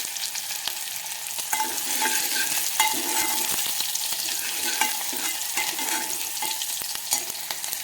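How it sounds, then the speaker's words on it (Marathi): Onion fries slowly in oil with mustard seeds and cumin in a pan over a low gas flame, a close, even sizzle with occasional light pops and the scrape of a spoon. "आता गॅसची फ्लेम कमी करायची आणि छान लालसर रंग येईपर्यंत कांदा तळून घ्यायचा आपल्याला"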